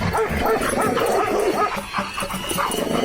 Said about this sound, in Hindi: तब तक सेठ का कुत्ता बिरजू का पिछवाड़ा नोच लेता है।